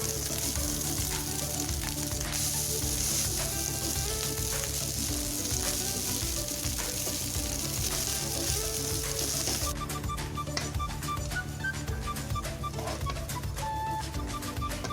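Rice fries in a pan with peanut masala, giving a loud, constant sizzle with scraping stirs as it is turned, the crackle changing a little partway through; no one speaks.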